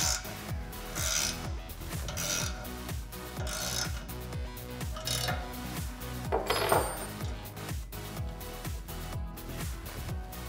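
Metal tools work a bolt and nylon lock nut on a steel Jeep Wrangler front bumper, an Allen key and a 10mm wrench making repeated close rasping ratchet-like clicks and scraping turns with small metallic clinks.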